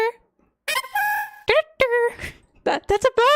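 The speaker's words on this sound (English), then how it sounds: "Because I'm trying to explain to you all how good the Gen 4 cries are." Synthetic cries from a Generation 4 Pokémon video game ring out loud and close in quick bursts, harsh buzzy electronic calls with bird-like squawks and crowing tones separated by short gaps.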